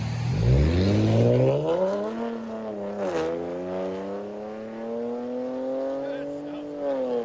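A car engine revving while driving, a steady, fairly loud drone whose pitch climbs, dips briefly and rises again, with a faint voice underneath.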